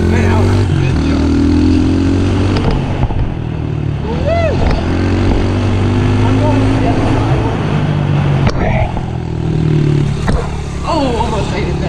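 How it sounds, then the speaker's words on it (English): Four-wheeler and pit bike engines drone and rev steadily throughout, with pitch rising and falling as throttle is given, loud and close, while people talk over the engine noise. "That four-wheeler will go fast if you give it gas."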